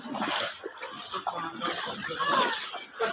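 Fast-flowing flood water in Feni rushes and splashes in a continuous broad wash, with faint voices mixed into the churning current.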